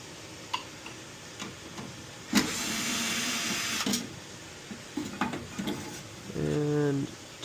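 Screws being pulled from a Heil furnace panel: sparse metallic clicks and ticks, a loud buzzing burst of about a second and a half, then a short whirring driver sound near the end. No voices.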